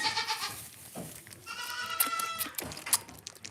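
A goat bleats nearby, a wavering, nasal cry in the middle, with softer rustling and faint shuffling around it.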